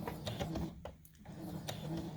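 Home sewing machine stitching a pillow seam with about a half-inch seam allowance, a steady close, rapid mechanical chatter that stops briefly and then resumes.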